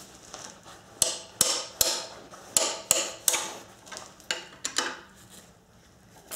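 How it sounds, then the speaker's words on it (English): Sharp metallic blows from a 3-pound hammer strike a wrench about a dozen times in an uneven rhythm to loosen engine bolts, each impact ringing briefly, close by with no talking. "just use, of course, a wrench and a 3-pound hammer"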